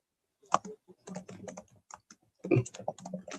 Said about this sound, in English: Are you typing in?